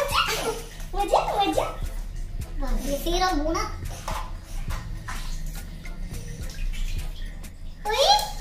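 A small child splashes in bathwater, with sloshing bursts and drips while the child babbles and squeals, and an adult voice is heard nearby.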